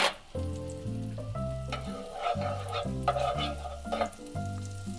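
Butter and salt frying in a pan for a lobster pasta sauce, a steady close sizzle under a stepping background melody, with occasional stirring scrapes.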